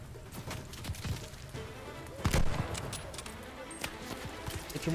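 Gunfire in the video game Call of Duty Vanguard, scattered sharp shots and bursts at low level, with one louder crack midway, mixed with game effects and a faint voice.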